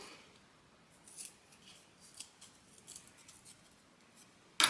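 A blue pastel pencil being sharpened, heard as faint, quiet scraping bursts spread over a few seconds, with a sharper scrape right at the end.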